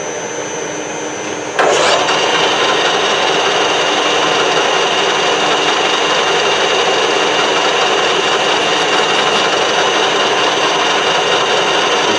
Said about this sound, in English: Take a 1mm cut and we'll see what she does.